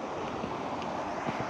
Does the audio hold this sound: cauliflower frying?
no